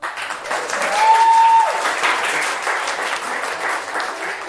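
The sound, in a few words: audience applause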